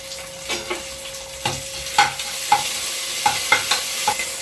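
Shallots, curry leaves and ginger garlic paste frying in oil for duck gravy, a loud close sizzle cut by about eight regular scraping stirs of a spoon against the pan, with no talking.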